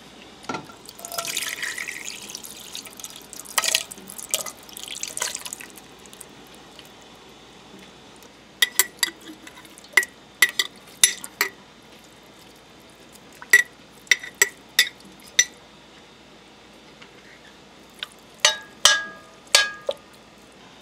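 Broth is poured into a pot for stew: a short stretch of soft liquid pouring, then scattered quiet drips and light clinks over a hushed background.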